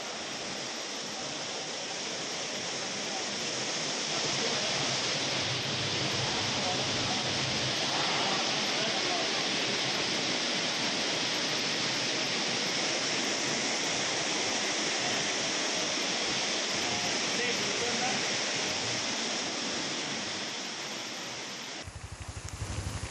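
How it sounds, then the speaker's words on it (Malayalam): Heavy monsoon rain and rushing floodwater in Kerala, a dense, steady, loud roar that holds for over twenty seconds, close and with no voices. "കനത്ത മഴയിൽ തൃശൂർ, പാലക്കാട് ജില്ലകളിൽ വ്യാപക നാശനഷ്ടമാണ് ഉണ്ടായിരിക്കുന്നത്."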